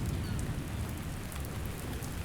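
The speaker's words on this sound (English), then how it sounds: "It is raining constantly." Steady, dense rain falls constantly in a coastal Washington setting, a continuous loud hiss of drops on surfaces with a low rumbling undertone, no voices.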